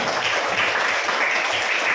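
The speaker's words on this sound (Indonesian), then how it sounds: "kita berikan tepuk tangan yang meriah untuk kita semua" Schoolchildren in a classroom applaud together, a dense, even patter of clapping filling the short moment without any talking over it.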